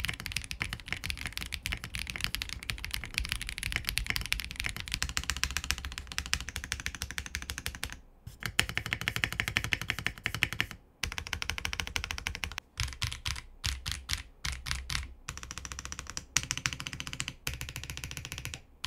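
Steady typing on a Zoom 98 mechanical keyboard fitted with switch foam, a dense run of close, crisp keystrokes with brief pauses and bursts, no talking.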